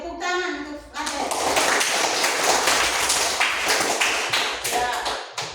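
Quick burst of classroom clapping as a class applauds a student, crisp dense hand claps filling several seconds right after a teacher's voice, close and lively.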